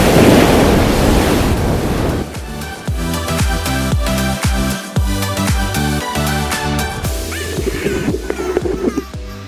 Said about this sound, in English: Golden beaches and rising waves.